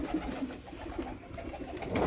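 Pigeons coo softly at night near a pipe, low repeated murmuring calls close by over a steady background hum.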